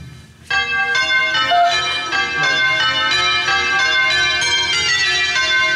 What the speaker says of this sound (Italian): suonò le campane col gesto di un dito